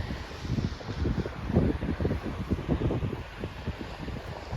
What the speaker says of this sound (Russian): Ветер у нас сильный.